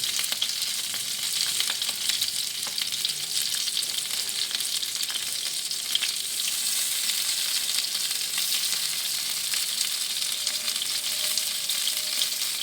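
Stuffed baby eggplants frying in a pan as they are turned over, a bright, continuous sizzle with faint scraping and small ticks of movement, close and steady, with no voices.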